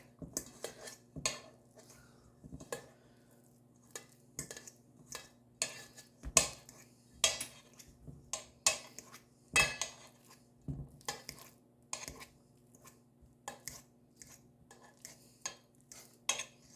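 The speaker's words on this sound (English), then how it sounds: "we're going to just smash them up with the fork" Bananas mashed with a fork in a bowl, a sparse, irregular series of sharp metal-on-bowl clinks and taps close by, quiet between strikes, no voices.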